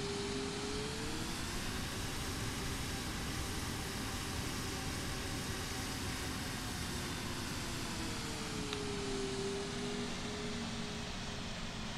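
A320neo airliner taxiing toward the runway in a flight simulator, a steady broadband engine hum and whine with a slowly gliding tone, continuous and even throughout.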